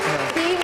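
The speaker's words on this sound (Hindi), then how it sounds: "हुमा और मोना और हमजा के लिए बहुत सारी तालियां" A television studio audience gives a short round of applause for three participants, close and steady clapping heard while a voice talks over it.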